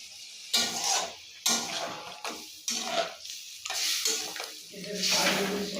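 Bori curry with beans cooks in a pot with a steady sizzle, broken by several distinct bursts of stirring and scraping against the pot, close and moderately loud.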